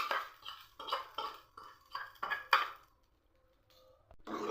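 A spoon scrapes and clinks in a pan as rice uppumavu is mixed with powdered almonds, about seven steady, rhythmic strokes close by, then a short lull before the scraping resumes.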